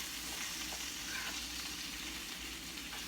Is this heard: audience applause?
no